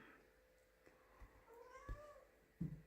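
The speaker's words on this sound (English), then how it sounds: "Now I don't know if you can hear that, but that's one of my cats" Trixie the cat lets out a faint, distant meow or two in a quiet kitchen, with a few soft knocks and thumps nearby.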